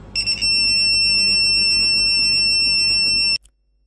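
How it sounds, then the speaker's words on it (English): A continuous high-pitched electronic tone comes from an incompatible LCD screen on a Creality Ender 3 V2 3D printer with a BigTreeTech SKR Mini E3 V3 board. It is loud and close, begins with short stuttering beeps and cuts off abruptly. "So that noise is coming from the screen itself."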